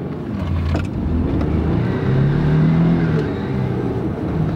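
A cheap old four-wheel-drive truck accelerates hard down a small drag strip, its engine droning steadily and rising in pitch as it pulls through the run, loud and close throughout.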